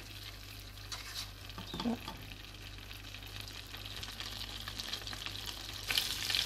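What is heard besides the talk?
butter heating and sizzling in a pan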